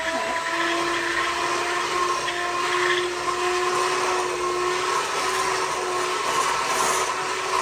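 An electric mixer creams room-temperature butter and sugar for a butter cake, a steady motor whine with a sustained tonal hum. It runs evenly and continuously at close range with no pauses.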